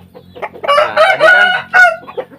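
A chicken clucks and calls in a few bursts, close and fairly loud, with a faint steady hum underneath and no voices.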